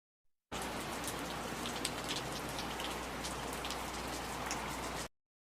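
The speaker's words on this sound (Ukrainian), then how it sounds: "Так, це рясний дощ" Steady heavy rain pours down continuously, a dense hiss of drops striking surfaces with no break, close and loud throughout.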